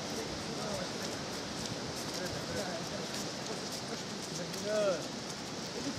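Steady rain falls throughout, a soft even hiss with scattered drops, and a voice speaks briefly near the end.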